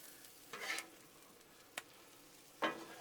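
Patty melt filling mixed on a hot Blackstone griddle, with a few short spatula scrapes and stirs breaking a soft, steady sizzle, heard close up with no voices.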